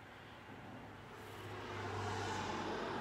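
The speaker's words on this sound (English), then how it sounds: "Oh my god, it's a car, it's moving." A car passes on a road, its engine and tyre noise swelling gradually from a low rumble to a fuller roar as it nears, heard without any talk.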